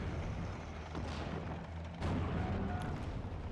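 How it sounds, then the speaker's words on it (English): A Panzer IV-C tank gun firing in the WWII strategy game Steel Division: Normandy 44, heavy booming cannon reports amid rumbling battlefield ambience, with two sharper blasts standing out. "the Panzer IV-C now firing back at the Churchill 5"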